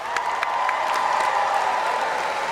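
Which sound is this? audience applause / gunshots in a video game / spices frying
audience applause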